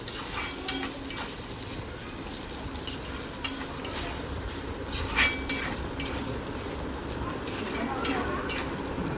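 Ginger, green chili and garlic sautéing in a pan for beef pickle, a low steady sizzle with scattered scrapes and clinks of a spoon stirring, fairly faint and close.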